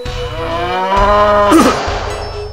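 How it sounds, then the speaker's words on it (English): A cow lets out a loud, close, drawn-out moo with a rising, wavering pitch, over a steady pulsing mechanical rattle in the background. "these cows fall out of the sky for no reason"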